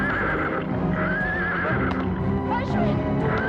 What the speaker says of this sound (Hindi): इस घोड़े को रोको।